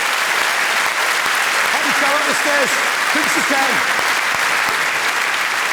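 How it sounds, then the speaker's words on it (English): A comedy club audience applauds steadily as a man is brought up on stage, with continuous clapping running under the host's voice. "Round of applause for Nick."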